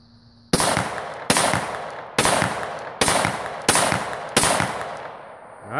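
Six loud, sharp rifle shots fired at a target on a range, spaced roughly evenly about a second apart, each with a brief decaying echo, with no talk.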